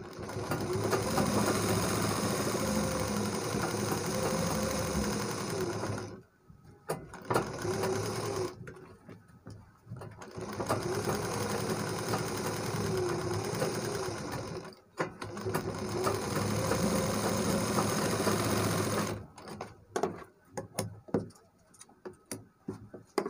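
A sewing machine stitches a kurta side pocket in steady, close, buzzing runs that break off several times. Fabric handling and clicks fill the gaps.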